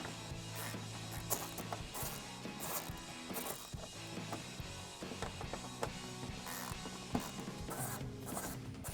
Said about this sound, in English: I'm going to use a 7 millimeter socket to remove those.